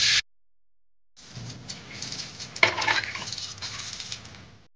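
Crabs being scrubbed clean of mud with a brush in a kitchen, a brisk, close scratching and rubbing that starts after a short silence and continues for a few seconds.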